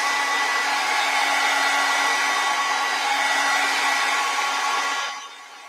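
A hair dryer blows steadily on acrylic paint on a winter landscape painting, a loud continuous whooshing hum that drops off near the end as it is switched to low or moved away.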